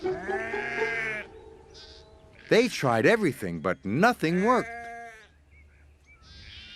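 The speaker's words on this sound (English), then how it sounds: "The noisy sheep were spoiling his peace and quiet." Sheep bleat loudly in wavering cries, several overlapping, alongside a narrator speaking.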